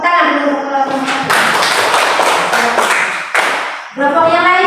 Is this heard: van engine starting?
no